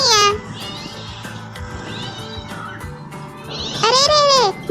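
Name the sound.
cat meowing sound used as a prank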